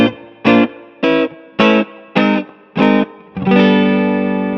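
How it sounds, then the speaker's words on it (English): An electric guitar through a spring reverb pedal plays a series of short strummed chords, each followed by a brief washy tail, ending on a longer sustained chord with lingering reverb. "let's start with the spring reverb on the Flint"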